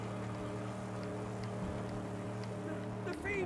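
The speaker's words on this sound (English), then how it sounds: "The sounds of the engine's going to attract them more than anything." A vehicle engine in the Mad Max video game hums as a steady low drone throughout, fairly quiet, with faint voices.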